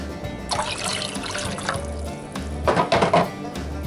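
Vinegar poured into a jar of brine for garlic dill refrigerator pickles, a close trickling stream that swells into a louder gurgling splash near the end.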